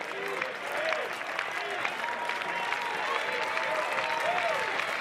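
College baseball crowd at a North Carolina vs Clemson game with the bases loaded and two out, cheering and clapping in a steady, sustained roar with whistles over it and distant announcer talk underneath.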